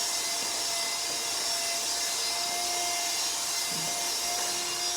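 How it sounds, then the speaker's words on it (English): Electric clippers shaving the belly of a Miniature Australian Shepherd, a loud, continuous, close motor buzz with a steady tone throughout. "I'm going to go underneath her and I'm going to shave her belly."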